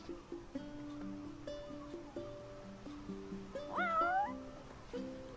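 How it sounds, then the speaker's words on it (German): A cat meows in Final Fantasy XV, one clear rising meow over soft game music and ambient tones, with no speech. "Ach komm, das ist eine Katze."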